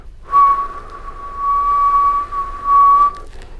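A single sustained whistled tone, clear and steady, held for about three seconds with slight swells in loudness, no other sounds around it.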